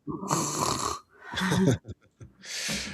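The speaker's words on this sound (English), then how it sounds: "My dog's snoring." A dog snores in a few long rasping bursts, fairly close and loud, with short pauses between breaths and no talk over it.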